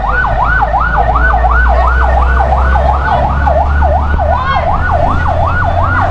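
A fire truck siren wails steadily in Sarangani Province, Philippines, rising and falling in quick regular cycles, loud and close over a low engine rumble.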